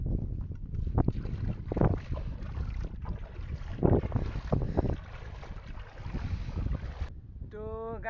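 Wind blows under a tree near a river in open farmland, rumbling and buffeting the microphone in uneven gusts that rise and fall, with a brief electronic warble at the very end.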